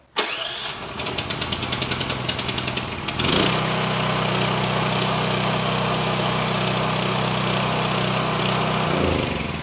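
A Blackstone push-button generator with 100% copper windings, tested before delivery, cranks and catches, then settles into a loud, steady engine drone that runs without a break. No one speaks.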